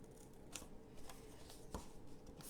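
Long-bladed scissors snip through paper in a few quick, quiet cuts spaced about a second apart, soft and close against a faint background hiss.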